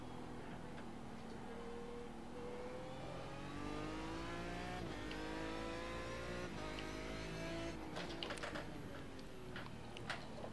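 A Ford GT race car engine in the iRacing sim at Daytona road course drones loudly and steadily, its pitch climbing through gears with quick drops at shifts, a few sharp clicks and thumps near the end, no voice heard.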